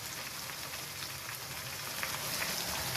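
Chicken pieces hit a pan of frying onions, garlic and ginger, giving a steady, dense sizzle that crackles softly and continuously with no voices.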